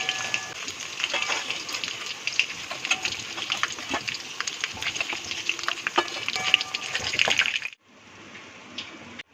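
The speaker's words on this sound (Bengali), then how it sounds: "বাকি মাছগুলো ভেজে নিচ্ছি।" Pieces of Bhola fish sizzle and crackle in hot oil in a pan, a busy close frying hiss with sharp pops and spatters that continues for several seconds before quieting near the end.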